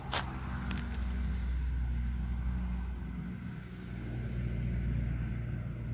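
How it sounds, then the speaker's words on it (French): Car passing on a road beside an abandoned farm near houses, a low steady engine rumble that swells and fades gently over several seconds, fairly faint and distant, with a sharp tap at the start. "C'est juste parce qu'il y avait une voiture qui passait."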